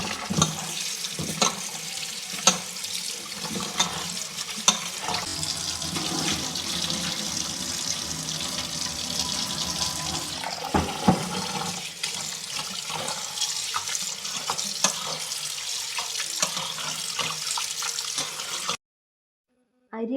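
Jeerakasala rice for ghee rice gets washed in a kitchen sink, with running tap water, sloshing and swishing of grains in water and occasional clinks of a vessel, close and continuous before stopping abruptly near the end.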